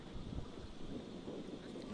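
Steady wind rushes and buffets against the microphone on a cool, brisk day at an outdoor T20 cricket semi-final ground, a continuous low rumble with no talk.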